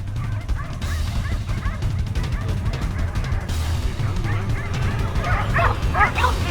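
Hunting dogs bark and yip at a wounded wild boar hiding in shrubs during a drive hunt, a continuous overlapping chorus of barks from several dogs at middle distance with sharper yelps rising toward the end.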